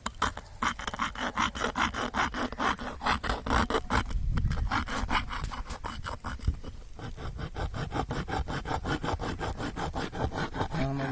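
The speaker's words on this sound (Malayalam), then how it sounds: "ഒരു എക്സോ ബ്ലേഡ്, അത് ബൾബിൻ്റെ ഈ ഭാഗം കട്ട് ചെയ്ത് ഒഴിവാക്കാനാണ്" A hacksaw blade cuts off the top of an LED bulb with fast, steady back-and-forth strokes. The rasping is close and continuous and keeps a dense, regular rhythm throughout, with no talking.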